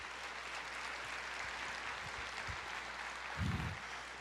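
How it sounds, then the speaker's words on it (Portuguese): A church congregation applauding during a Bible study, a soft continuous patter of clapping with a few low thumps and a brief louder bump near the end. "Você pode aplaudir o Senhor?"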